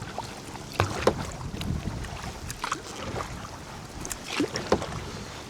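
Kayak paddling against a good breeze on the Murray River in PEI, irregular splashes and paddle strokes close by over gusty wind noise.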